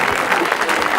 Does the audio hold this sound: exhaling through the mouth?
no